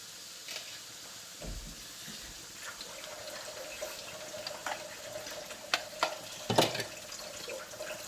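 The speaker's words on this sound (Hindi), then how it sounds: "मैं इसके साथ थोड़ा पानी भी डालूँगी।" Water poured into frying spices and yogurt in a pan while cooking Lahori street-style chana, giving a soft sizzle and watery splashing with a few louder bursts, fairly quiet and with no talking.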